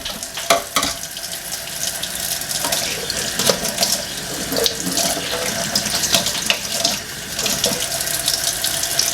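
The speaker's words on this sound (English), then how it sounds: "So right now I'm just giving them a really good rinse." Freshly dug dandelion roots being rinsed under a running kitchen tap, a steady close splashing stream into the sink with occasional knocks and spatters as the roots are handled throughout.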